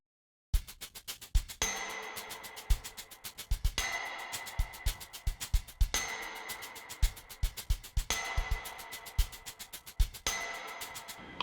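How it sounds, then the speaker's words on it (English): Cinematic percussion sample patch named Clang, from a scoring library. Metallic clanging hits ring out over quick driving beats, in a phrase that repeats about every two seconds. It is moderately quiet and has no talking. "We'll just listen to this first patch clang."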